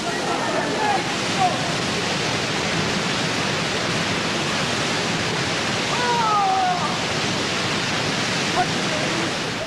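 A waterfall crashes down with heavy spray, producing a loud, constant roar of rushing water close by, with no voices.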